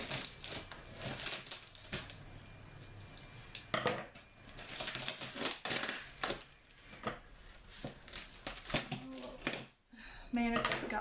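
A heavily taped cardboard package holding yarn is cut and torn open, giving repeated scraping, tearing and crinkling bursts close by, with a short quiet gap near the end.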